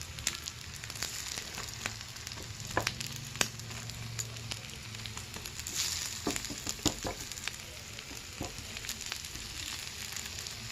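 Orange dosa frying in oil on a pan gives a faint, steady sizzle with scattered crackles and pops close by, with no voices.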